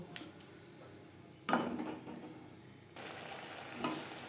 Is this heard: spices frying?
yes